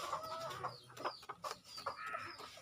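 A laying hen sitting on a clutch of three eggs clucks and murmurs softly in short, irregular bursts at close range, quiet against a faint background.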